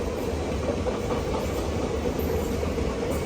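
The Mangaluru–Trivandrum Maveli Express passing at daybreak, heard as a steady, loud, low rumble of rolling wagons with rhythmic clatter throughout, nearby and alone.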